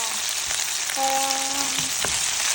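Onion frying in a pan for chicken tomato garlic sauce makes a continuous, fairly loud sizzle with a faint tonal whine for about a second and a brief clink near the end.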